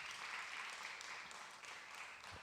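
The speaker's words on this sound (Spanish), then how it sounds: "¿Le puede dar un fuerte aplauso al Señor?" A church congregation gives a sustained round of applause during a sermon, a faint, even wash of clapping that continues without pause.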